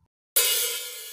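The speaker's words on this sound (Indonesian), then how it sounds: "ketuk open hi-hat," One open hi-hat hit on a drum kit, heard alone: a sudden bright metallic splash that keeps shimmering and sizzling, thinning out gradually instead of cutting off.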